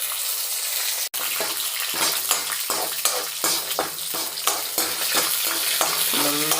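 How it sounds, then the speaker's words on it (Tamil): Mustard seeds, chana dal and curry leaves crackle in hot oil, a loud sizzle broken by rhythmic spoon scrapes and clanks against the pan, with a sharp knock near the start. "நல்லா செவக்கிற அளவுக்கு ஃப்ரை பண்ணி எடுத்துடலாம்"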